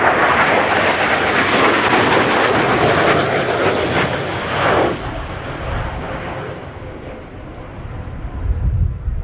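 Spanish Navy EAV-8B Harrier II+ jet performing a flying display at an air show, a loud continuous roaring jet engine close overhead, with an announcer's voice under the noise.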